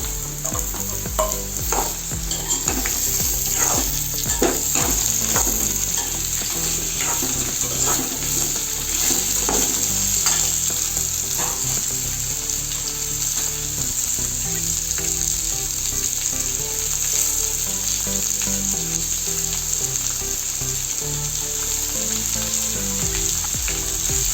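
Sweet pumpkin fries with softened onions in a pan as a spatula stirs and scrapes in a steady, repeated rhythm. A constant close sizzle runs under the strokes, and nobody speaks.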